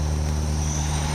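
A personal drone lifts off with its propellers spinning, a loud steady buzzing whir with strong low hum, close and alone.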